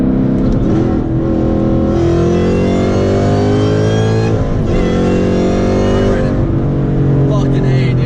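A Gen 3 Fox Body Mustang roars loudly as it accelerates, its engine note climbing through the gears with a sharp drop at each shift, a raw close-up wail from start to finish.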